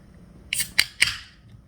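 Opening a sealed drink container, a few sharp close snaps and crackles in quick succession, with a brief hiss trailing after, no talk.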